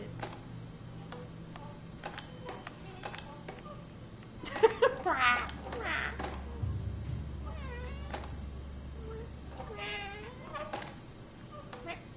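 A house cat meows a few times at close range during a quiet indoor moment, with soft ticking and light handling noises around it and some low background hum.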